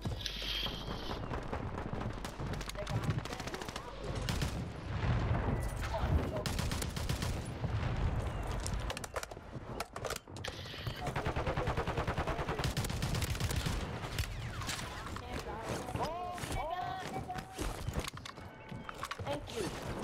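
Gunfire in the Call of Duty battle royale on Rebirth Island, bursts of rapid shots crackling through a busy game mix, mostly moderate in level, with someone talking over parts of it.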